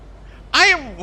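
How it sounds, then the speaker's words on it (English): A chicken on top of a train in the video game Fortnite lets out a single loud, nasal squawking cluck in the middle of an otherwise quiet moment. "And there's a random ass chicken on top of the train."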